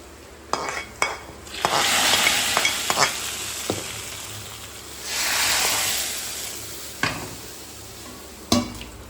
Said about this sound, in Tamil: கருவேப்பிலை போட்டுக்கலாம் தாளித்து முடிச்சாச்சு